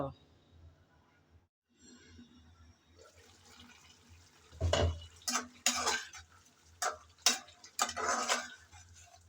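A spoon scrapes and clatters against a pan while cauliflower stalk curry with tomato is stirred. It starts as a quiet simmer, then turns into a series of louder, close scraping bursts in irregular strokes.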